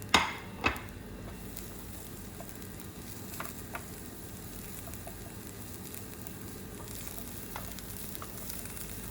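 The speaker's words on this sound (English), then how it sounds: "in goes your garlic and your scallions. So we just want to give this both a light fry" Garlic and scallions fry lightly in a pan with potatoes, a soft, steady sizzle broken by a few sharp clacks of a utensil at the start and scattered taps later.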